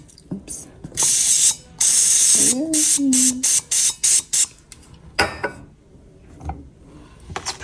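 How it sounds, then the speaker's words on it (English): Butter cooking spray hisses from an aerosol can onto a well-seasoned pan in a home kitchen, in one long burst followed by a rapid series of short spurts, close and loud, with small clatters of cookware between. "we're gonna do some butter spray"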